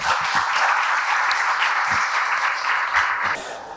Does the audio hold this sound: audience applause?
yes